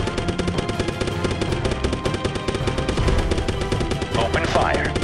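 Rapid gunfire from the war game Hell of Men: Blood Brothers crackles steadily through a dense, loud battle mix of explosions and shouted radio-style voice commands.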